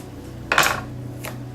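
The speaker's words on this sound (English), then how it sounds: "you just want to slice it and then just cut the circle out like this" A knife slices through an apple on a cutting surface and carves out the circular core, giving one crisp cutting clatter, then a fainter second knock, close and alone over a low steady hum.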